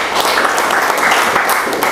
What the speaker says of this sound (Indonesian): Yang paham berikan sorak-sorai buat Tuhan Yesus